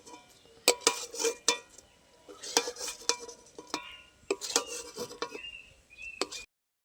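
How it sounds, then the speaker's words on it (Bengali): Stirring semai vermicelli through milk in a pan while making jorda shemai, with repeated sharp scrapes and taps of the spoon against the pan in irregular bursts over a faint background, close and moderately loud. "এইভাবে কিছুক্ষণ আমি নেড়ে চেড়ে নেব।"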